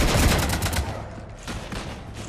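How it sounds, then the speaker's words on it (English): Rapid bursts of gunfire rattle loudly up close in the video game Mass Effect 3 as a ship gets shot up, dense overlapping shots that ease slightly before picking up again. "You want to stop shooting up my ship?"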